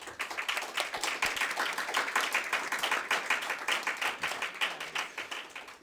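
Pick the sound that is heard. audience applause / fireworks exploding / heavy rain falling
audience applause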